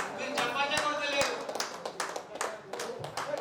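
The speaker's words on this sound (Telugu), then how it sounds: "మీరు ఎంత చప్పట్లు కొడితే మా యాంకరింగ్ అంత ఉత్సాహం వస్తుంది" Audience clapping at a 10th class silver jubilee get-together, scattered, uneven claps from a modest group with distinct individual hand strikes, heard under speech.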